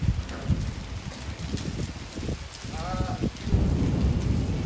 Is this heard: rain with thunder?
yes